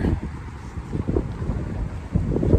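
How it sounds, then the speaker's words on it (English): Strong wind roars steadily and buffets the microphone in gusty bursts, loud and close, with no other clear sound over it. "It's too windy here."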